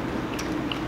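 Crunchy roasted piglet skin (lechon de leche) being bitten and chewed up close, a short, soft crackle of crisp skin under the teeth.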